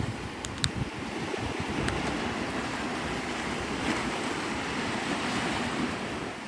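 Ocean surf rolls steadily onto Navarre Beach, Florida, a continuous wash of breaking waves with wind rumbling across the microphone, loud and unbroken throughout.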